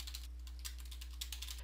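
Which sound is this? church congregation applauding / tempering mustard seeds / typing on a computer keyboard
typing on a computer keyboard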